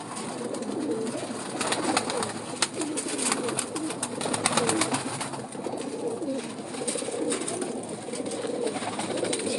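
A male breeder pigeon coos steadily at close range, with soft rolling calls over a faint background bustle on a rooftop loft.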